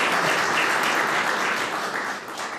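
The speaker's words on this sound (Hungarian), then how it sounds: "Nagy tetszést aratott a film, és a taps sem maradhatott el a végén." Dense, even applause from an audience at the end of a film screening, a continuous wash of many hands clapping alone.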